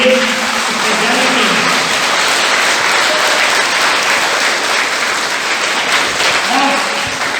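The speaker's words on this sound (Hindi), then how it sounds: "जोरदार ताली होनी चाहिए।" A school audience at a Teachers' Day celebration bursts into loud, sustained applause, thick continuous clapping from a large crowd, with a voice briefly audible at the start and near the end.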